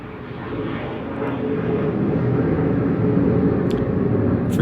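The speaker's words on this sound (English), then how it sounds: "Airplane flying overhead." A fixed-wing airplane passes overhead, a broad, steady engine roar that swells slightly and holds loud throughout, with no talking.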